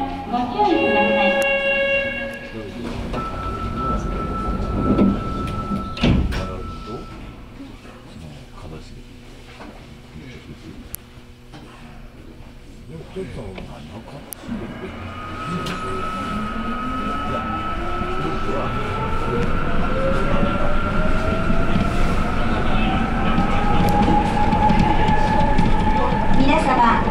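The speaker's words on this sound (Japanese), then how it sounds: "1番ホームから真駒台行きが発車します。" A Sapporo Municipal Subway train bound for Makomanai pulls away from the platform with a rising electric motor whine and rumbling wheels, growing steadily louder, while a platform announcement chime and voices sound early on.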